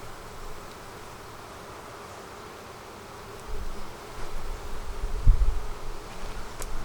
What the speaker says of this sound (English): This hive is getting loud.